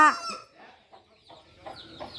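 Chickens cluck around a rural home, with a sharp, fairly close call at the start followed by fainter, scattered clucks through the rest.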